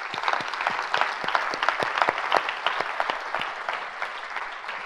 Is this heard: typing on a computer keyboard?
no